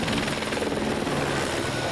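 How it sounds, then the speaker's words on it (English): A helicopter on a film set, its dense rotor roar and whine filling the whole stretch at steady, loud volume, close by and heard alone without talk. "Bring on the chopper."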